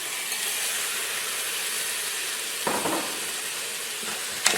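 Pinto beans are stirred inside a pressure cooker over a steady background hiss and sizzle, with a brief scraping rustle partway through and a sharp clink near the end, close and moderately quiet, no speech.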